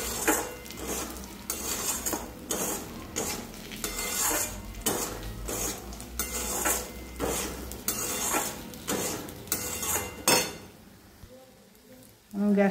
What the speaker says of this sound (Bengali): আমার নিম বেগুন ভাজাটা হয়ে গেছে